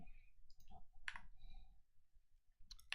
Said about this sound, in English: I think I can triple click here.